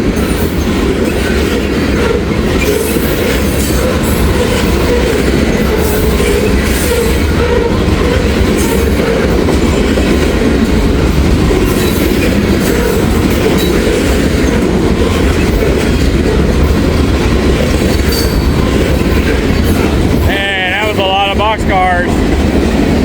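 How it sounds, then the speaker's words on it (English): Freight train of loaded boxcars rolls past close by, a loud continuous rumble with rhythmic clickety-clack of wheels on rail joints and a brief metallic wheel squeal near the end. "Boxcars here. And they're full,"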